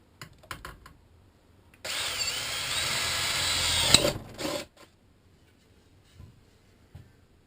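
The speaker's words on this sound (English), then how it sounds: "Found a piece of firewood that would fit right inside that thing, so that'll hold it perfectly still while I drill a hole in it." A power drill bores a hole into a piece of firewood in one steady, close burst of whirring lasting a few seconds, then stops abruptly, followed by a few light knocks and near-silence.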